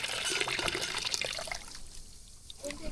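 Fresh water splashes and trickles as fish are rinsed outdoors on an island, a close, busy patter of small splashes that thins out toward the end.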